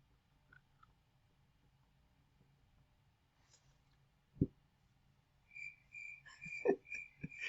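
Crickets chirp faintly in repeated short trills that begin partway through, mixed with a few soft thumps against an otherwise quiet background.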